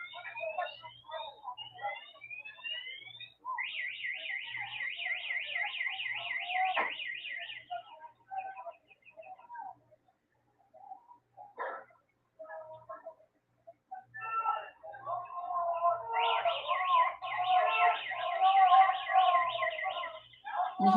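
An alarm sounding outdoors, a repeating electronic siren-like tone that rises and falls in bursts, moderately close, with gaps and faint background noise between the bursts.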